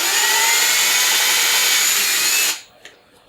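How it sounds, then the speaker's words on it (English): A power drill bores through resin-filled letters on a silver label Commodore 64 restoration, a loud steady whine that runs unbroken for about two and a half seconds, then stops abruptly, followed by a brief faint tap. "so I'm just going to drill through one of"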